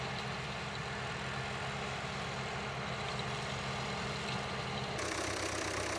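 A 1955 Ford tractor engine runs steadily at idle, a constant low rumble heard close and alone.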